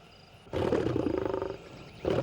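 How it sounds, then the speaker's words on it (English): Lions roaring at night in Maasai country: a deep, loud roar with a pulsing grunting texture lasting about a second, then a second roar begins, close and alone with no talk. "we do hear the lions roaring during the night"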